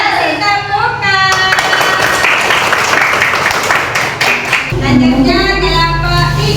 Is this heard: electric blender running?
no